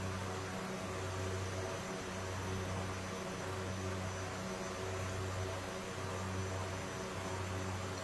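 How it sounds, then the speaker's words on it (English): Aircraft turbine engines run at increased throttle, a steady, loud broadband roar with a low pulsing drone beneath, heard from inside the cockpit with no talking. "Quite a bit more throttle here. Don't want to react too quickly, because it does take a while for these turbines to spool up."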